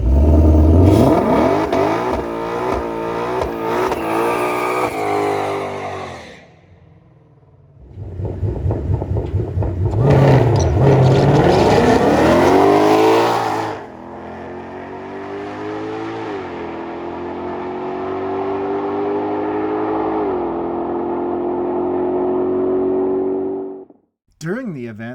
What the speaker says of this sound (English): once both cars are staged and ready to go, you're going to listen to the engines and that launch control